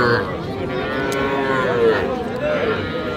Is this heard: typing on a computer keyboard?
no